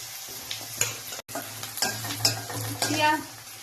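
Finely chopped onions frying in oil for palak paneer, a close continuous sizzle broken by repeated scraping strokes of a spatula stirring the pan, with no voices.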